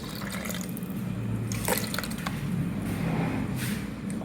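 Ground tender coconut paste being poured and scraped into a bowl of dosa batter, giving soft wet squelching and dripping sounds over a steady low background hum.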